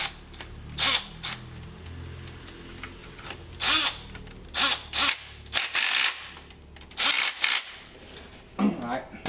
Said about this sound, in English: We'll go ahead and tighten down the tensioner.